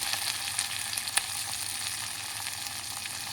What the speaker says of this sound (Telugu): ఉల్లిపాయలు కాస్త వేగే వరకు, కాస్త ఎర్రబడే వరకు వేయించుకోవాలన్నమాట